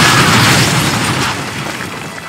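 Loud artillery strike explosion in Call of Duty Modern Warfare 2, a heavy close boom with a rumbling tail that slowly fades.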